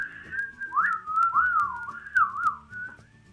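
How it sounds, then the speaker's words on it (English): A person whistles a short wavering tune up close, the pitch sliding up and down for a few seconds with no talk. "I can whistle. It just takes a minute."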